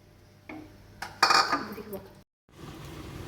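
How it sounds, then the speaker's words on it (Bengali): A metal lid clatters onto a pot of simmering mixed vegetable curry with paneer, giving a few sharp clinks and a ringing clank, then a short silence before a soft background hum returns. "সব সবজি ভালো করে সিদ্ধ হয়ে যাওয়ার জন্য একটু ঢাকা দিয়ে দেবো"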